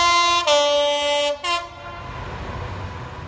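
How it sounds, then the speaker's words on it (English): A Class 66 diesel locomotive sounds two loud horn blasts up close as it passes, then its engine and wheels fade into a lower rumble. "And here is one final 66 just to round things off."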